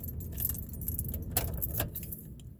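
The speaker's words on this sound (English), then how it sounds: "There's some keys that look like this here." Keys jangling near a 2021 truck: a few quick metallic rattles and clinks, close and fairly quiet, with no speech.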